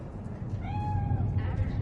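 A cat meows once in Cyberpunk 2077's Night City, a clear rising-falling mew at moderate distance over a low background rumble, with voices talking around it.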